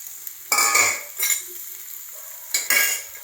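Papaya pieces go into local desi chicken cooking in a pan, bringing a few bursts of stirring and clattering against the pan over a soft sizzle, with close, short scraping knocks and quieter frying in between.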